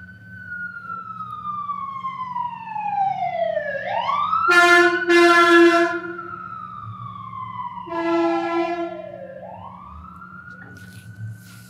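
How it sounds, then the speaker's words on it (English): An emergency vehicle siren wails in long rising and falling sweeps with bursts of a harsher horn-like tone, growing louder as it passes close by, then fading slightly. "Just let the siren go by and then we'll go."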